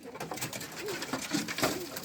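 Soft cooing from Ödemiş Kelebeği pigeons, a Turkish native breed: a few low throaty coos rising and falling, close by and fairly quiet.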